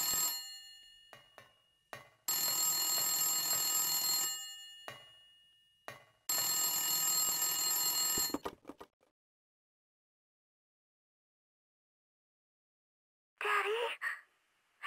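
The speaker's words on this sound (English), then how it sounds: "The phone rings and it's Cheryl on the other end." A telephone rings in the Silent Hill video game, with two long, loud bursts of ringing separated by short gaps and followed by silence. A brief breathy vocal sound comes near the end.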